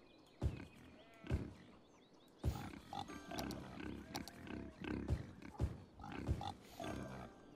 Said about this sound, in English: So yeah, there's definitely pigs and things.